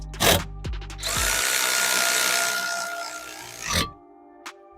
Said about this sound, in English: both of them get torqued to 80 foot-pounds